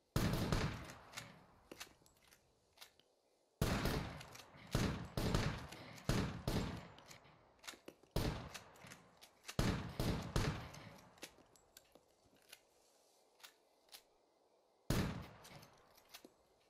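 Repeated gunfire in the survival video game Scum, loud bursts and single shots in irregular clusters across the whole stretch with short quiet gaps between them, no talking.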